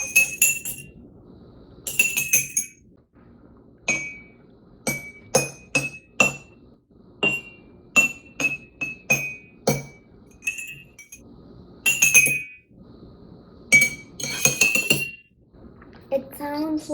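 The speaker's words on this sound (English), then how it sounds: "It sounds like a xylophone, right? Each glass has a different sound, right?" Glasses filled with different water levels are struck like a water xylophone, giving clear ringing clinks at varied pitches, one at a time and in short runs, loud and close with brief gaps between.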